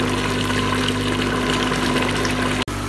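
Steady, fairly loud water flow with a constant hum while taro root (arbi) is washed in a kitchen, broken by a sharp momentary dropout near the end.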